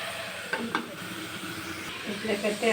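Mutton curry masala with ginger paste, coriander, coconut and coriander powder sizzles in a pan as a spoon stirs it, steady frying hiss with a few soft scraping knocks and brief talk near the end.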